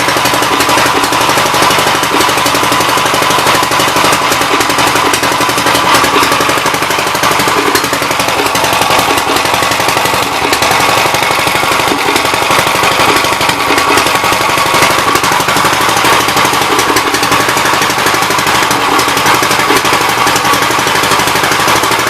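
A 59 L engine, just cranked back up after 40 minutes with its carburettor being run out of gas, runs continuously with a loud, harsh, rapid knocking clatter close by, unbroken throughout.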